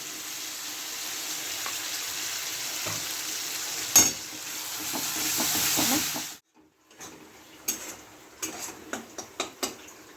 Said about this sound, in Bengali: আমার মশলাটা হয়ে গেছে কষা এবার আমি ডিমগুলোকে দিয়ে একটু নেড়ে চেড়ে নেবো